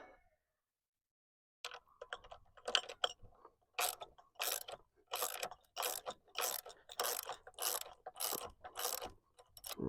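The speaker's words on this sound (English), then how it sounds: "Ratchet this on down in here." A ratchet wrench tightens a metal bracket on an A-frame backyard swing set. After a brief silence comes close, rhythmic bursts of clicking, stroke after stroke at an even pace.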